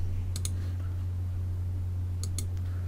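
Two pairs of quick, crisp computer mouse clicks, one near the start and one near the end, over a steady low electrical hum.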